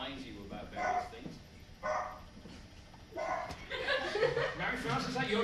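A dog barks in several short bursts during an online video call, the barks near and fairly loud, mixed with chuckling and people talking.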